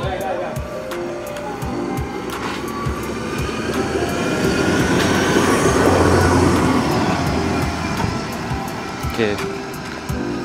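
A train rolls past with rumbling wheels and rhythmic clacks over the rails, growing louder toward the middle and then easing, with faint background voices.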